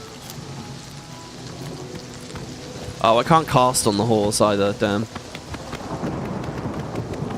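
Steady rain and storm ambience near a city in the video game Oblivion Remastered, a constant soft downpour hiss throughout, with someone talking over it in the middle.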